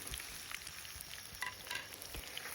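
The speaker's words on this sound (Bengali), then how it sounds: "এখন পেঁয়াজটাকে হালকা ব্রাউন করে ভেজে নেব।" Chopped onions frying in oil with whole spices, a soft steady sizzle with occasional crackles and stirring scrapes, fairly quiet and close, no talk.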